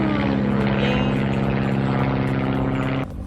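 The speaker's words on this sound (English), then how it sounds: "hear that fucking prop engine above me that's ruining the moment" Steady loud drone of a propeller airplane engine passing overhead, throbbing and sustained, cutting off abruptly near the end.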